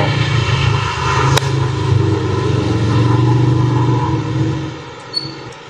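A green Jeep Wrangler Rubicon engine runs at a steady low idle, a continuous close rumble with a brief sharp knock partway through, easing off slightly near the end.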